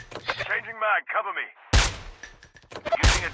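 Gunfire from the mobile video game Call of Duty Mobile rings out as two loud, close shots, one near the middle and one near the end, following game voice lines at the start.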